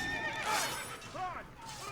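A horse neighs in the video game Assassin's Creed Brotherhood, a rising whinny followed by a shorter second call, both close and clear over soft game ambience.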